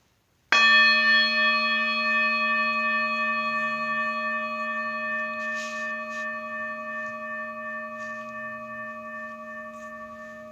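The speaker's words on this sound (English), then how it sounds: "I'll ring the bell now, and after the bell fades into silence, I'll start to guide us all through the practice." A meditation bell is struck once, its bright, layered ringing tone sustaining and slowly fading toward silence, heard alone and close.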